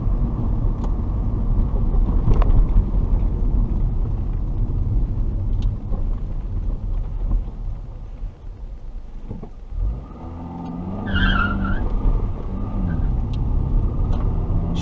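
A 2002 Honda Civic Si accelerates hard at night, its engine rising in a loud, steady rumble close by, with a brief squeal of tires spinning partway through before the drone settles again.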